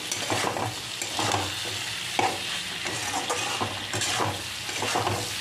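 Chicken gizzards stir-fried in a pan over medium heat with a little water, steady sizzling under repeated scraping and clinking of a spatula against the pan, close up with no talking.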